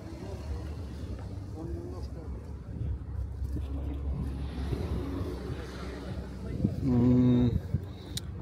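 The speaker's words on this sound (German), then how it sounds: "Kommen ein paar Autos rein." A few cars roll in at the Motorworld Köln season-opening car show, low engine rumble under nearby chatter, with one louder engine swelling briefly near the end.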